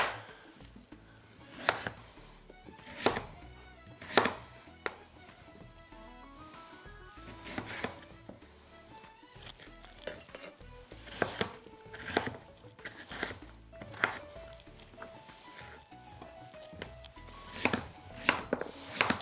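A knife chops through kabocha squash on a board in a home kitchen, sharp woody thuds landing in irregular bursts of two or three, close and fairly loud, with softer scraping and knocking between strokes and no voice.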